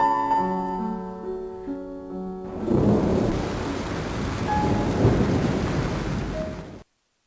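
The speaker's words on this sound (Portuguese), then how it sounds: "A chuva voltou com a mesma intensidade da noite anterior." Heavy rain pours in a broadband wash, with low rumbling like distant thunder rising in, after an opening stretch of sustained musical tones; the storm sound is fairly loud and steady, with no voices.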